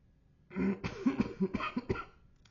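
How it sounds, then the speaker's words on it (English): A run of repeated chesty coughs from someone with a chest cold, several short harsh bursts in quick succession, close and fairly loud, with no talking. "Excuse my cough."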